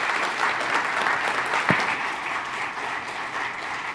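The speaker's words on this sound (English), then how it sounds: "Another round of applause for our panelists here" Steady, dense clapping from a large audience, sustained throughout at an even loud level.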